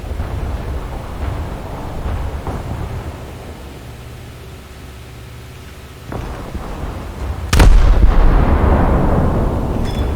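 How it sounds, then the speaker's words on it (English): Naval guns of the IJN Suzuya light cruiser fire in War Thunder, muffled booms rolling under constant sea and engine rumble, with one sharp, loud blast late on followed by a heavier roar. "now let's go into a gun battle"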